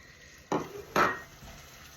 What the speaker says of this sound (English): I'm giving it a good stir.